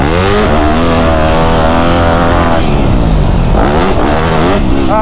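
A car engine screams at high RPM during a driving-game jump attempt, loud and close, its pitch holding high and then wavering as the revs dip and climb again.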